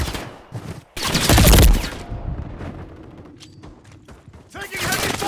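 Heavy bursts of gunfire and explosions in the Call of Duty: Modern Warfare III open beta, with a loud close barrage early on and then scattered shots and mechanical clatter, under shouted in-game voice callouts.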